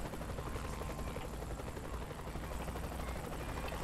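Steady whirring rotor drone of a helicopter in Saints Row: The Third Remastered game audio, continuous and fairly loud throughout, with no voices.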